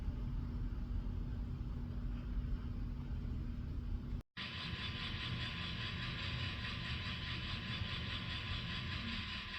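A model train hauling an MTL CP boxcar rolls steadily around a layout, giving a soft continuous mechanical rumble with a brief dropout midway, no voices heard.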